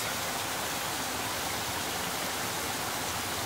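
A small hidden waterfall splashing over rocks in a creek, a steady dense broadband rush of falling water, close and constant without pause.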